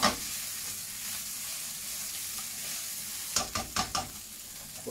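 Thai spiced prawn fried rice sizzles steadily in a hot pan, with a few quick scraping stirs of the spatula clustered near the end, close and fairly quiet.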